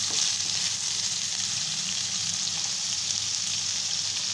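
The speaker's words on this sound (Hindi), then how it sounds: "इसको अच्छे से मिक्स करेंगे।" Mixed vegetables for chicken Manchurian sizzle steadily in a hot pan, a dense, even frying hiss with faint scrapes of stirring throughout, loud and close with no talking.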